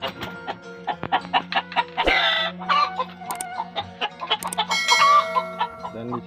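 Hens cluck repeatedly in a coop around laying nests, with busy overlapping calls and a louder squawking burst, nearby and continuous.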